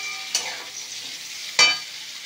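Vegetables and fried cauliflower being stir-fried in a pan, with two sharp scraping clatters of the spatula over a steady, soft background sizzle.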